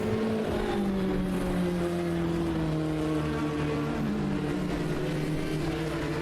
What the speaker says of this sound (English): The ID Simsport car continuing along its merry way